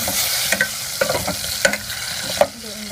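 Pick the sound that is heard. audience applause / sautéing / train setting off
sautéing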